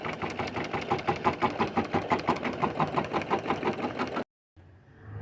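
Sewing machine stitching fabric in a close, steady rapid rhythm of needle strokes that runs for about four seconds, then cuts off briefly before quieter handling noise.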